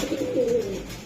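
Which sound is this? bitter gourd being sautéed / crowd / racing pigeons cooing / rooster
racing pigeons cooing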